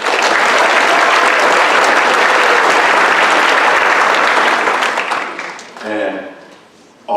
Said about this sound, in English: I want to give a second applause for our managers, Jay Francis and Charles Green.